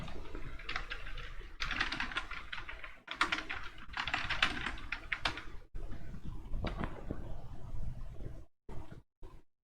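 Close, rapid typing on a computer keyboard, bursts of clicking keystrokes separated by short pauses, ending in a few isolated taps.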